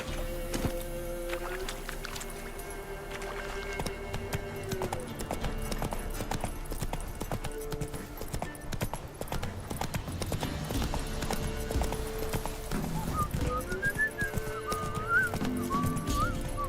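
Horse hooves clip-clop steadily in The Witcher 3 video game, a continuous rhythmic clatter under game music with a brief whinny-like tone near the end.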